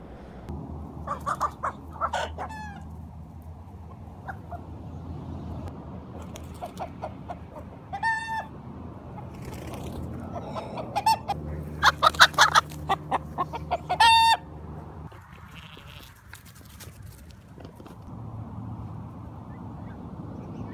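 Chickens inside electric netting fencing cluck repeatedly in close, irregular bursts, with a brief run of louder, denser calling partway through over a steady outdoor background.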